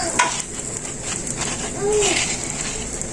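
Haşhaşlı gözleme dough frying in oil in a pan gives a steady, close, hissing sizzle, with a couple of faint clinks and brief tonal chirps over it.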